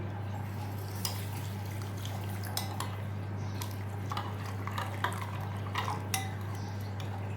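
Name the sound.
pouring water onto basil seeds in a bowl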